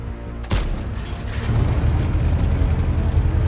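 A tank's main gun fires once in a video game battle set in a lost city: one sharp, loud boom, followed by a lingering low rumble of engine and ambience.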